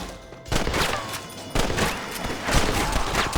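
Bursts of rapid gunfire in the video game Red Dead Redemption crack repeatedly in short volleys, loud and close, with brief gaps between the bursts.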